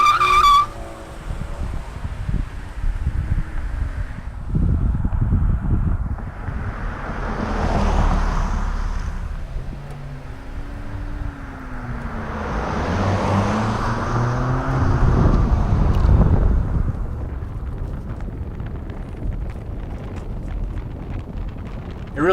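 An Infiniti QX50 LUXE SUV drives in sport mode, its engine rising and falling in pitch through repeated acceleration swells, with wind and road noise steady throughout.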